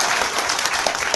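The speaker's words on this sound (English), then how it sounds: "every time you guys are applauding" Audience applause at a legislative hearing, a steady wash of clapping that fills the whole moment without a break, moderately loud and close, with no clear voices over it.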